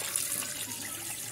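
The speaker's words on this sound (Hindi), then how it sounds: "पानी पा ले" Water is poured or runs from a tap in a steady, continuous splashing stream, close and moderately loud, with no talk.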